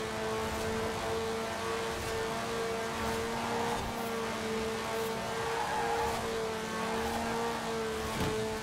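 Race cars roar past in Forza Horizon 4, a dense continuous engine drone with steady tonal whine that stays loud and unbroken throughout.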